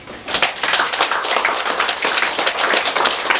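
Close, loud audience clapping for an honoured guest at a Buddhist sutra lecture hall, a dense continuous patter of many hands filling the whole moment with no talk over it.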